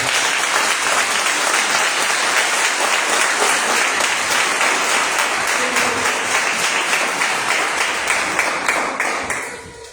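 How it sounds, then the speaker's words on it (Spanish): A church congregation giving loud, sustained applause to the Lord, dense clapping from many hands that holds steady for several seconds before tapering off at the end. "Le doy un fuerte aplauso al Señor"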